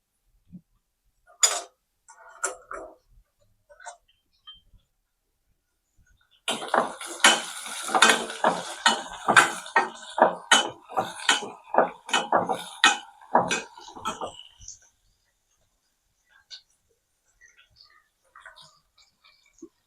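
Lengthwise-cut onions go into a pan of spluttering mustard seeds and cumin for a sambar, with sharp crackles and ticks of the tempering and a run of clinking spoon stirs against the pan, fading to sparse pops.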